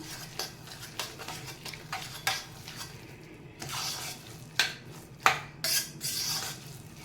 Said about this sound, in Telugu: బాగా ఉప్పు వేసుకున్నాము కదా, దీన్ని ఇట్లా వేడి మీద ఇట్లా మ్యాష్ చేద్దాము